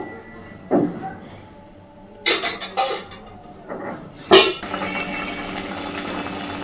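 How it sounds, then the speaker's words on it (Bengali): Cauliflower and potato curry boiling in a covered pan, a low bubbling simmer punctuated by clatters of the lid and pan, heard up close with no talk. "দেখুন খুব সুন্দরভাবে ফুটতে শুরু করেছে"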